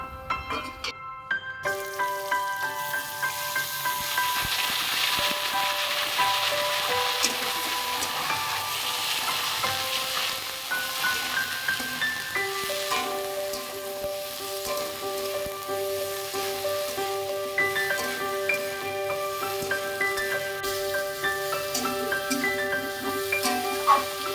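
Cut potatoes and radish drop into hot oil in a pan while fish jhal is cooked, setting off a continuous loud sizzle with stirring and clinking, and brief speech now and then over the frying.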